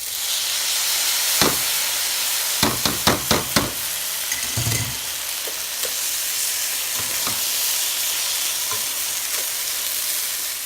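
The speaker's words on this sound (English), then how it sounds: "So I gave the rice a good stir and dissolved all the sugar into it." Rice being stirred with sugar in a pot for zarda, sweet rice: a run of sharp spoon scrapes and clacks against the pot in quick succession early on, over a steady sizzling simmer, with a few scattered knocks afterward.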